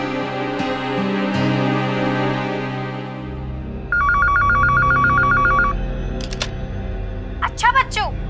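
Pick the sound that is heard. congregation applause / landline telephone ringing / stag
landline telephone ringing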